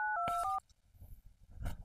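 Touch-tone dialing while calling a police inspector: about four quick keypad beeps, loud and close, followed by faint rustling and a muffled thump.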